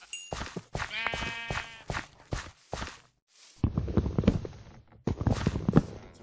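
Sheep in the Minecraft video game bleat in quick, clear bursts, close and fairly loud, mixed with a run of blocky footstep sounds and short pauses between them.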